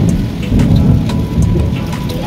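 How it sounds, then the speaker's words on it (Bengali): Heavy rain pours down in a dense, loud hiss of drops striking surfaces, with deep thunder rumbling underneath and scattered sharper drips close by, no voices. "তো এই তো বৃষ্টি চলে আসছে, তো সেটা শুরু হয়েছে আলহামদুলিল্লাহ।"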